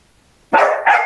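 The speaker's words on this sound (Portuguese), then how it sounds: "Agora é o cachorro." A dog barks twice in quick succession, loud and close, after a moment of near silence with no voices around.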